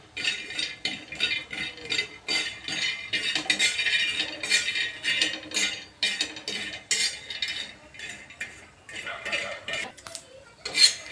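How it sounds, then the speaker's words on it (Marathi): Peanuts dry-roasting in a pan for stuffed okra, rattling and clinking in quick bursts as they are stirred and tossed, close and fairly bright with short pauses between scrapes. "पहिले शेंगदाणे टाकलेले आहेत आपण थोडेसे. ते चांगले खरपूस भाजून घ्यायचे."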